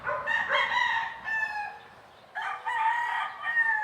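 Two long rooster crows ring out close and loud, one after another with a brief pause between, over a quiet rural background.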